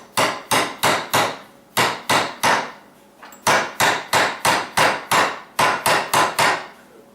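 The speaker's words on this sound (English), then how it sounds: "break out that trusty hammer" Loud, sharp hammer blows strike wooden chair parts in quick rhythmic bursts of three to four hits, separated by short pauses, close and with no talking.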